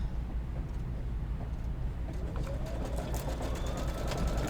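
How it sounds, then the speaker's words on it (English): An embroidery machine stitching Mylar starts up and runs with a continuous rapid mechanical chatter and rhythmic needle clicks, a rising whir as it gets going, close and steady with no voices. "I'm going to go ahead and just start my machine up again"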